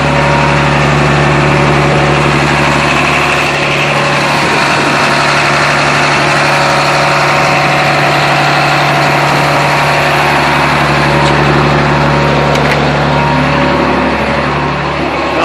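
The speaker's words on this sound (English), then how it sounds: "I'm gonna idle her here. I'll step out so you can hear her idle." A 1998 International 8400T truck's diesel engine idles steadily, a loud, continuous low rumble with a constant hum that stays close and unchanging throughout.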